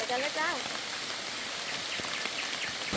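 Steady rain hisses and patters in a forest near Ban Nong Mek, Thailand, over a broad wash of noise, with a brief bird chirp at the start; no talking, just continuous moderate rainfall.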